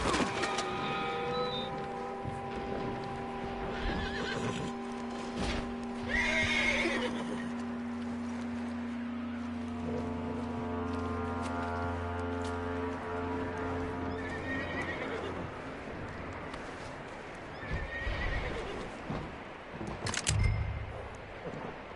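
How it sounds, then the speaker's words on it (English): A horse in Red Dead Redemption 2 whinnies with drawn-out, tonal neighs and snorts, its hooves clip-clopping nearby amid game ambience and a few sharp clicks. "But bring that horse when you're done."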